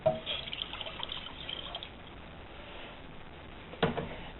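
Water poured from a cup into a saucepan as the base for cream puff pastry batter, a soft, steady trickle across the clip, ending with a brief louder splash near the end, with no voices.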